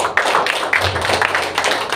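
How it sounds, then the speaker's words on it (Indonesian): Church congregation clapping together during a sermon, loud close dense hand claps in a fast steady patter for a couple of seconds with a low hum underneath. "Tepuk tangan buat Tuhan."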